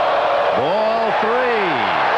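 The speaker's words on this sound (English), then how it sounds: "And now this crowd that has been so quiet since the 3rd inning comes alive." A packed baseball stadium crowd at the 1988 World Series Game 5 between the A's and Dodgers swells into a steady, dense roar, with someone commentator talking over it.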